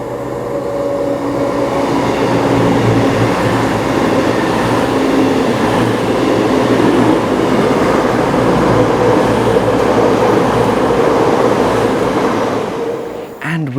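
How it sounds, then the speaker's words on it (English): A Voyager diesel train passing through Kings Norton station, a loud sustained rumble and engine drone with rolling wheel noise that holds steady for over ten seconds before easing, heard close with no talking. "With that Voyager passing through Kings Norton"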